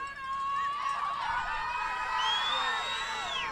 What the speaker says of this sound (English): crew cheering for their teammate Mitchell